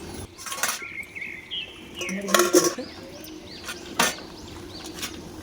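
A metal lid clatters onto a cooking pot of egg cake with a couple of clinks and a brief scrape, followed by a lighter tap.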